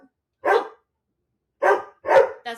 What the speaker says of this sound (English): Sorry for the dog.